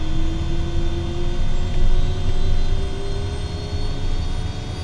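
Kodiak 100 single-engine aircraft in Microsoft Flight Simulator 2020 on a cargo run, its engine giving a steady, loud droning hum with a faint rising whine, heard alone without talk.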